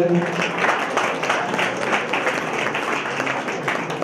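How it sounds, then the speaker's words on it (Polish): An audience applauds young performers at a school show, a thick continuous burst of clapping with faint voices mixed in, fairly loud and close. "Wielkie, wielkie brawa dla nich, naprawdę."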